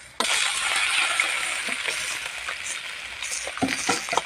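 Food stir-fries in a large wok, giving a steady close hiss of sizzling oil broken by scattered scraping clinks of a spatula against the metal, with no talking.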